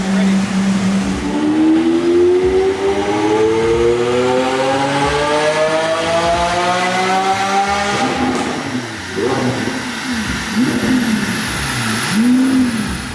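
An Aventador's engine winds up on a dyno run, its pitch climbing steadily in one long, loud pull for about eight seconds before easing off, with voices talking over the tail end.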